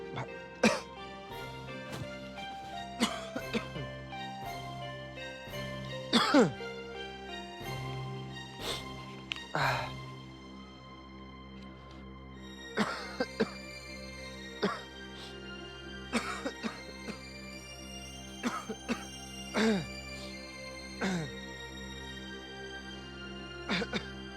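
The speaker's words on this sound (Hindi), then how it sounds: "बहुत खांसी हो रखी है" Repeated coughing fits, several sharp coughs in bursts with pauses between, fairly close against a quiet room with a low steady hum.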